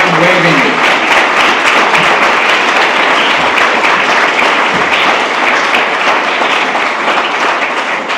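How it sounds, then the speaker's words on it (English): An audience at a charity building unveiling ceremony applauds the donors, loud dense clapping held steady for several seconds close by, with faint voices mixed in. "I would like to give them a round of applause"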